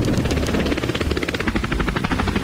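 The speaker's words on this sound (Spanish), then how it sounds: "Ahora estoy conduciendo este helicóptero." A helicopter flies in a video game during a storm mission, its rotor thudding in rapid, even pulses over a loud engine drone, close and constant with no speech.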